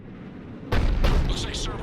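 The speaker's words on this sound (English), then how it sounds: "Looks like Cerberus got that cannon operational, Commander." Cerberus cannon firing in the video game Mass Effect 3 Legendary Edition: after a quiet lead-in, a sudden heavy blast erupts, followed by further booming bursts and rumbling as the shots ring out loudly.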